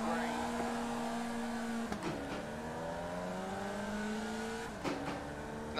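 Race car engine in a sim racing game against real drivers, rising high-pitched revs climbing through the gears with sharp upshift breaks around two and five seconds, steady and close, while someone talks over it.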